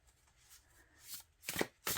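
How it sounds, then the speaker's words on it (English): A deck of tarot cards with matte cardstock is ripple shuffled close up, soft riffling that builds into two sharp, crisp bursts as the cards flutter and snap together near the end, with no talking. "for now I'm just going to ripple shuffle them"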